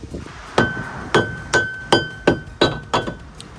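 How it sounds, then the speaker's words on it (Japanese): A rubber mallet strikes a seized brake rotor stuck to the hub of a Suzuki Wagon R during a brake swap. Seven sharp, close blows land at a steady pace, each leaving a faint metallic ring. "ローターを外すんですが、こちらここのハブの部分と固着しているので、まずは最初ゴムハンマーとかで叩いてみましょう"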